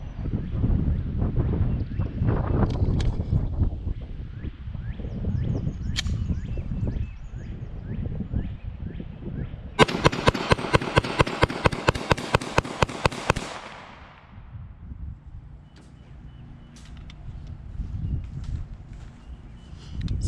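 A CZ-75B pistol fires a fast string of double-action shots outdoors, a rapid, sharp, evenly spaced volley of about a dozen reports in the middle, with wind rumble before and after.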